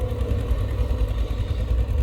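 Caterpillar 323 GC excavator with a six-cylinder diesel engine, a loud close steady rumbling idle with a throbbing low pulse and light clatter.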